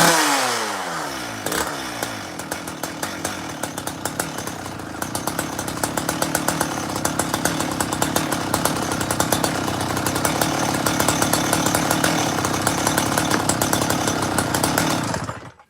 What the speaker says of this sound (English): I've just changed the carburettor on this saw.